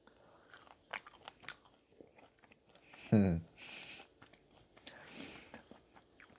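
Someone eats air-fried food dipped in a soy sauce, sesame oil and chili mix, with a loud crunchy bite midway and softer chewing and crunching around it, close to the mic, with talking between bites.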